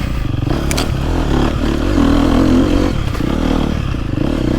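A KTM four-stroke dirt bike engine runs smoothly, steadily and loudly close by, holding an even idle-to-midrange drone with slight rises in pitch, no voices.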